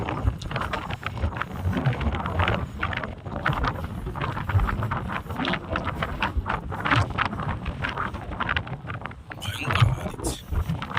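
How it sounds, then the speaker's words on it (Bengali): Strong wind gusting across an open hillside, a steady broadband roar that rises and falls continuously, buffeting the microphone close up, with occasional faint voice underneath. "ভয়ঙ্কর হাওয়া দিচ্ছে।"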